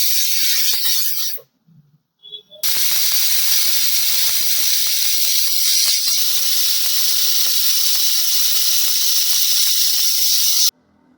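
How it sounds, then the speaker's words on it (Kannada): A pressure cooker holding mushroom biryani lets off a loud, steady steam hiss. It stops briefly and sputters back, then hisses on before cutting off at the end. "ಈ ಟೈಮ್ನಾಗ ನಾನು ಕುಕ್ಕರ್ ಲಿಡ್ ಹಾಕೋತೀನಿ. ಹಾಕೊಂಡು 3 ವಿಸಿಲ್ ಹೊಡ್ಸೋಣ."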